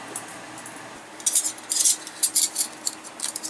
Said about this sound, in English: this is the Light My Fire titanium long handle spoon, and of course I'm not sure who makes this spatula